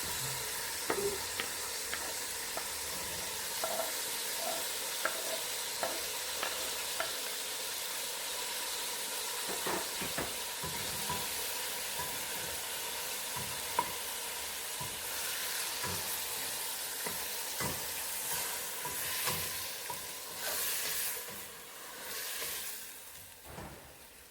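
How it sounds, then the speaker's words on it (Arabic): Chicken frying in about four ladles of oil with chopped onion and a tomato, a steady close sizzle running throughout, broken by scattered clinks and scrapes of stirring. "نزيدو عليها بصل مقطع وحبة طماطم مقطعة، نحركو ونقلبو مليح"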